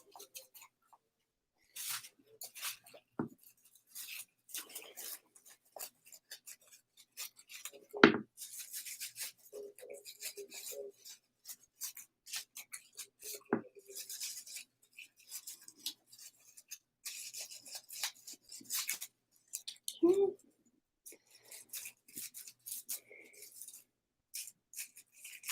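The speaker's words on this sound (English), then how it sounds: "This is when you get into a groove too with the plastic, your scissors will kind of start to glide." Scissors cutting strips from a plastic bag for a wreath, quiet intermittent snips and rustling crinkles close by, scattered irregularly with short pauses between.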